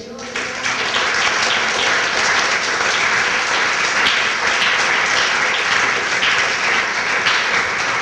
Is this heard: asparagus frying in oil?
no